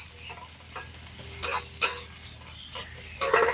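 Chopped onion and ginger frying in a pan make a soft, steady sizzle, broken by a few sharp bursts of louder crackle and scraping as the pieces are stirred.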